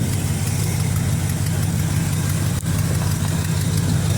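A Chevrolet Monte Carlo engine runs at a steady idle after its choke had stuck on, a loud, continuous low rumble heard close and unbroken.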